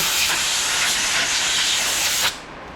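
Compressed air blasts loudly and steadily, blowing brake cleaner off Morris Minor brake parts, a close harsh hiss lasting over two seconds before cutting off abruptly.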